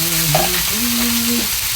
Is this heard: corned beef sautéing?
yes